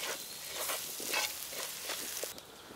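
A spoon works ground masala into boti (goat tripe) curry in a pan, a soft scraping stir over a faint sizzle, close and quiet, with no talking.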